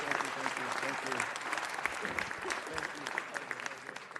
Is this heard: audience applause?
yes